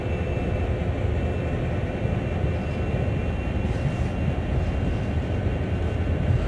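CSX heavy-haul freight locomotive pulling away in Train Sim World, a steady low rumbling drone of engine and rolling train, continuous and moderately loud without talk.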